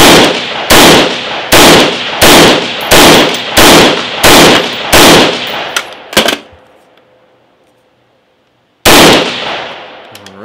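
A rifle with a Viper PDW stock fires ten rounds: nine loud, evenly spaced shots ring out at close range, then a pause as the echo fades, and a final tenth shot follows.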